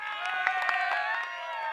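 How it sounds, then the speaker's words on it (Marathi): A crowd applauds and cheers at a Chiplun Nagri Premier League cricket semi-final after a batter's innings. The clapping and cheering are steady and fairly loud, with scattered sharp claps and raised voices over a continuous roar. "आणि ऋषभची बॅटिंग तुम्हाला आवडली असेल तर एकदा जोरदार टाळ्यांचा गजर"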